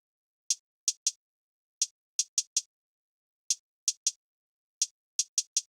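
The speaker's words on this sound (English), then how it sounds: "I had this second hi-hat here that was panned more to the right." Closed hi-hat hits from the second hi-hat in a hip-hop beat, panned right, playing a sparse repeating pattern of one hit then a quick triplet of ticks, crisp and bright, alone without other drums.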